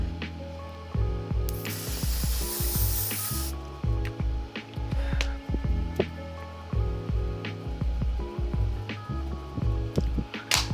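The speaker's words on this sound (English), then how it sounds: "I have this one by L'Oreal Paris. It is the Infallible 3-second setting mist." A L'Oreal Paris Infallible 3-second setting mist is sprayed in one long, close hiss lasting about two seconds, surrounded by busy clicks, taps and handling of bottles and objects.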